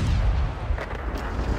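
A tank cannon firing in a tank video game, the Object 416, one deep booming shot that rolls into a rumbling tail, loud and close.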